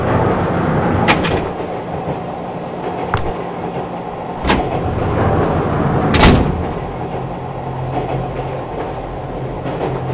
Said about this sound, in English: Someone keeps on knocking on the doors here.